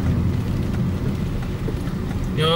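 Steady rain falls on Mount Salak, a dense continuous hiss of drops with a low rumbling undertone, fairly loud and close, with a brief engine-like whine rising at the very end.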